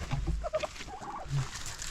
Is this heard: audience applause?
no